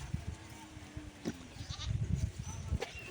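Goats at a farm feeding area bleat a few times among low rumbling noise and shuffling, with a voice calling nearby.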